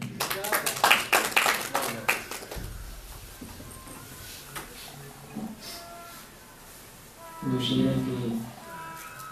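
A mushaira audience claps for a poet, a dense burst of applause at the start that fades quickly, followed by someone speaking and a brief rustle near the end.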